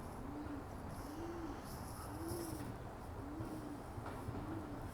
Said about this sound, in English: And I can hear baby pigeons over there.